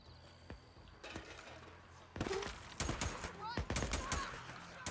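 Sniper gunfire in the video game Days Gone cracks out in sharp, loud shots, first scattered and then in a fast burst of several reports close together, over a faint ambient background.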